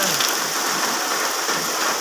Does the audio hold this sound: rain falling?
yes